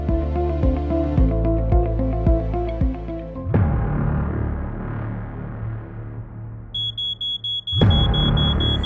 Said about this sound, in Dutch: Al bij heel weinig rook gaat de rookmelder af.